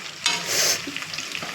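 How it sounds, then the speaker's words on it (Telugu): Chicken pakoda pieces fry in hot oil, giving a steady crackling sizzle with a brief louder stirring burst partway through. No voices are heard. "ఇంకా కొంచెం వేగితే తీసేద్దామండి"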